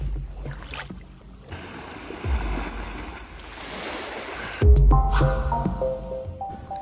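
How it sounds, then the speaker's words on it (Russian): Waves at Ksamil beach on the Albanian Riviera by the Ionian Sea, a steady wash of surf with rolling low rumbles and a heavier surge near the end, no voices. "пляж под названием Ксамиль."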